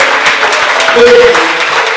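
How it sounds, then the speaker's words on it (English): Studio audience applauding for the host's mother during a Mother's Day special, a loud, continuous wash of clapping with a voice briefly rising over it midway. "Give a round of applause for my mom"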